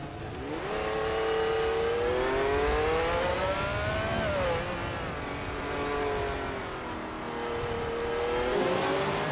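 Racing video game engines roar steadily as cars battle closely for first place, a loud sustained whine rising and dipping in pitch over about nine seconds with no talk.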